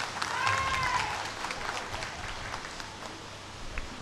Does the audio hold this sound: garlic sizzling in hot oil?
no